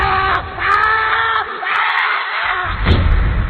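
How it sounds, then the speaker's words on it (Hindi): A man lets out a loud, drawn-out scream in a horror story scene, rising and falling over about three seconds with harsh, strained bursts. "कुछ देर बाद लेखक की एक जोर से चीख सुनाई देती है।"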